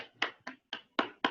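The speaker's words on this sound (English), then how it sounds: "So let's give them a round of applause." A few hands clap at an online meeting, five separate sharp claps spaced unevenly about a quarter second apart, fairly quiet and close, with no talk.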